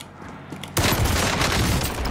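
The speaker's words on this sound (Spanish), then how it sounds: "¡Mira, mira cómo le meto tiro!" Heavy automatic gunfire in Call of Duty Warzone video game erupts suddenly after a quiet moment, then continues as a loud, dense burst of rapid shots to the end.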